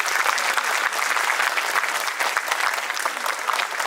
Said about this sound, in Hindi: जोरदार तालियां बज जानी चाहिए